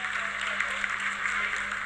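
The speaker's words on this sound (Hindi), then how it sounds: "Lot of applause indicates that till now the performance has been nominal." Applause fills a mission control room during the Chandrayaan-3 lunar landing, a dense, steady wash of many hands clapping at a moderate distance.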